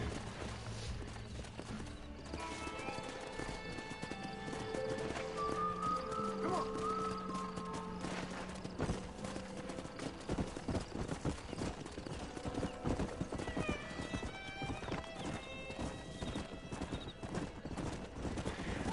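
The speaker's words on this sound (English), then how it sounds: "Держи лошадку свою." Horses in the video game Red Dead Redemption trot with steady clip-clop hooves and neigh now and then, with game music and ambient sound underneath.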